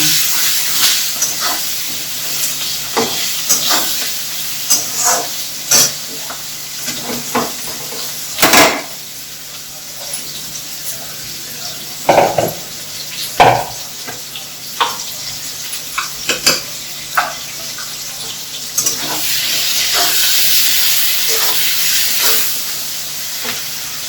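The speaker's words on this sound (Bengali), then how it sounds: "ওর মধ্যে পেঁয়াজ আর লঙ্কাটা দিয়ে দেবো একবারে ভাজার জন্য" Potatoes frying in oil in a pan with onion and chili stirred in, a steady hiss of sizzling under scattered sharp clinks and scrapes of a utensil against the pan, with no talking.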